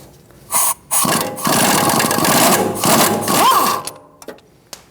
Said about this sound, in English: we're going to put our 18mm socket on the nut and remove it